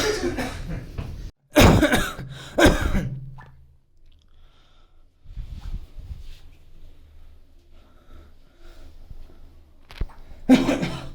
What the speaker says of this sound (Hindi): उन्हें बहुत खांसी आ रही है।